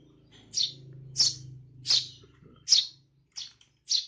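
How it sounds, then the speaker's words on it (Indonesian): A juvenile male house sparrow gives six short, sharp chirps at roughly even intervals, close and clear, over a faint low hum. "gereja anakan jantan"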